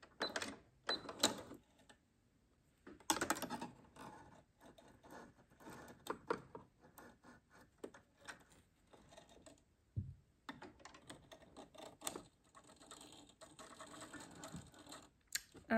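Sewing machine mechanism clicking and whirring as the needle is lowered to catch the bobbin thread while threading for shirring fabric, a series of short, close mechanical clatters and ratchet-like ticks separated by brief quiet gaps.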